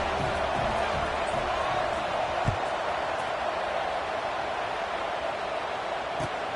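A football stadium crowd murmurs in subdued tones after a score, forming a steady, distant wash of noise with a single faint thump partway through.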